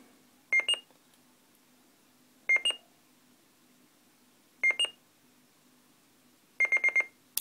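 Yaesu FT-817nd radio with a BHI DSP noise module sounding short electronic beep pips, four clusters spaced about two seconds apart, the last a quick run of four, clear over a faint hum.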